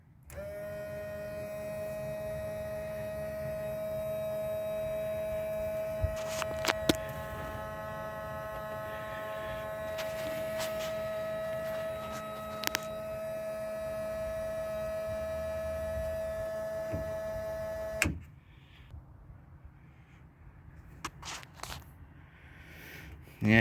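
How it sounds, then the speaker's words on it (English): Steady electric fuel pump of a Rotax 912 on a Searey seaplane, running with carb heat on, gives a constant droning hum with tonal whine until it cuts off abruptly near the end, leaving quiet background. "So let's start the fuel pump, electric fuel pump up now."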